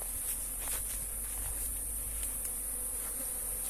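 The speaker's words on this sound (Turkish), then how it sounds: "İsmail Hakkı amcanın arıları. Çok iyi çalışıyor." Honey bees buzz steadily around multi-storey hives at a Thrace apiary, a dense continuous drone with scattered closer passes and a faint rustle, no talking.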